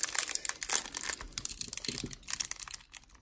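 Plastic packaging around a mystery lot of football cards is cut open, giving a close run of crinkling, crackling plastic with faint snips and rustles, fairly loud, with no one talking.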